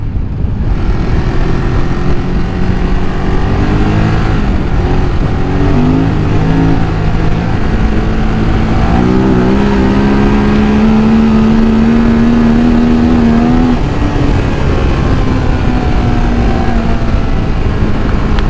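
A scooter engine sits up close and loud, revving and accelerating through the gears, its pitch climbing in repeated rising sweeps with shifts between them. Road and wind noise run steadily underneath, and nobody speaks.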